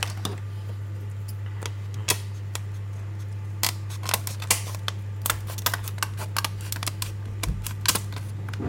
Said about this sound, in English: scissors, I guess.